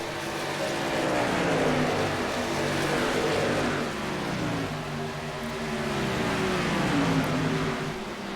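Racing truck engines roar around Homestead-Miami Speedway during a race, a loud continuous blend of revving motors that swells and fades as the trucks pass.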